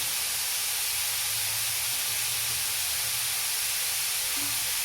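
Sliced radish sautéing in a pan gives a steady, even sizzle and hiss that holds unbroken throughout, with no talk over it.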